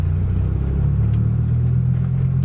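A Dodge Viper's engine labors and nearly stalls when pulling away in third gear, a loud, close, deep rumble that stays low and heavy throughout.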